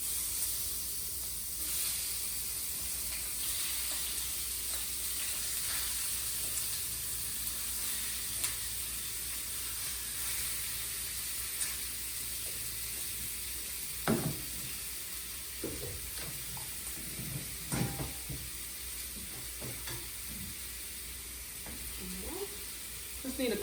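Chicken frying in an olive-oil-greased skillet, a constant sizzling hiss under which a utensil scrapes and knocks against the pan in the second half.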